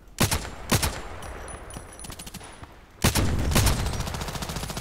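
Gunfire in the online shooter Contract Wars: two sharp close shots, then a pause with faint clicks, followed by a rapid burst of repeated shots that keeps going to the end.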